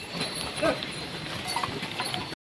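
Horses trotting along the stony Kedarnath pilgrimage trek from Sonprayag, a busy clip-clop of hooves at mid distance over steady outdoor crowd and trail noise, with faint voices in the background.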